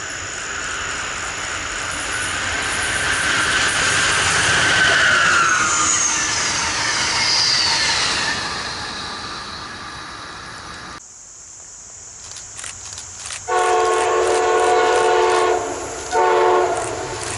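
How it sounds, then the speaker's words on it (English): Amtrak passenger trains rumble past nearby in Pennsylvania with a rising, sweeping roar, followed by the blaring of a train horn in several long blasts. "here's a couple Amtrak trains that we caught to start off our day"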